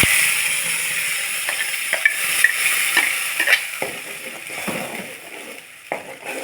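Ground chutney hits a hot oil tempering of mustard seeds, urad dal and curry leaves, sizzling loudly at first and then fading into a softer fry, with irregular spoon scrapes and clicks against the pan.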